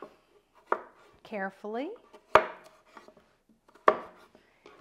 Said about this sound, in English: I'm just going to take my knife and do the same thing that I've done with everything else and slice it into thin slices